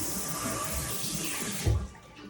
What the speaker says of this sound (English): So I'm just gonna rinse my hair first to kind of try and get some of the beeswax out.